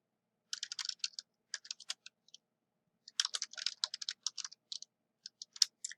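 Quick keystrokes on a computer keyboard while entering text into an Excel spreadsheet, crisp close clicks in two bursts separated by a short pause, with no talking.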